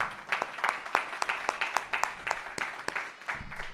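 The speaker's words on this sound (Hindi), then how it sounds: "आइए यीशु मसीह के लिए जोरदार ताली बजाएं" A church congregation at a London ministry gathering claps for Jesus Christ, individual sharp hand claps landing in a loose, uneven rhythm at moderate distance, fairly faint and without talk.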